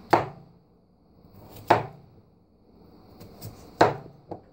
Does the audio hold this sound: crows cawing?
no